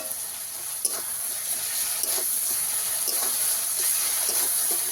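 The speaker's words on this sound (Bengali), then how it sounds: "আদা রসুন বাটা দিয়ে ভালো করে একটু কষিয়ে নেব।" Ginger-garlic paste fries with onions for a crab curry, giving a close, continuous sizzle broken by regular scraping stir strokes roughly every second.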